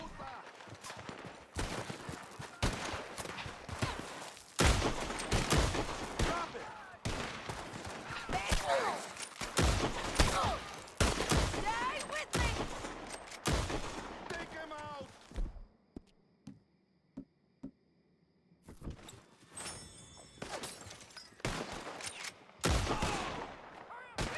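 Repeated gunfire from a heavy-recoil weapon in Red Dead Redemption 2, sharp shots fired in rapid bursts with a short lull before a few more volleys, loud and close.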